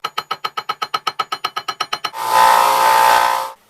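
A belt sander fitted with a very worn 120 grit belt grinds the lever cap of an 1890s Stanley No. 3 plane. About seventeen rapid, even clicks come first, then a loud, steady close-up whine for just over a second.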